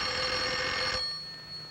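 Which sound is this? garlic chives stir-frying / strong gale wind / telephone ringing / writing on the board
telephone ringing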